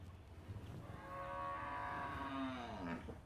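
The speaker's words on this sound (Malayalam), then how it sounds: "ഒരു പശു അകത്ത് കരയണുണ്ടല്ലോ" A cow lets out a long, low moo that rises and falls, somewhat distant and muffled, with no one talking.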